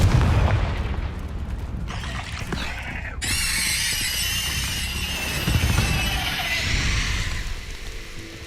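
A Confringo explosive spell blast in Hogwarts Legacy, a heavy boom followed by a bright crackling, hissing burst that lingers with rumbling low end, loud and sustained, accompanied by game effects.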